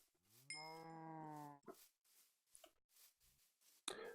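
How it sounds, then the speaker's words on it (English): A cow moos in the video game Minecraft with one long, drawn-out, tonal moo near the start, followed by a few short game thuds and clicks and a brief sharp sound at the end, with no talk. "go and slaughter a few more cows here."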